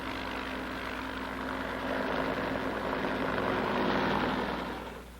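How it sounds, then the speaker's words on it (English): A steady roar of military helicopter engines and rotor noise, swelling slightly louder in the middle before easing off, with no talking. "Fleets of helicopters lift men and artillery into the hills surrounding the base."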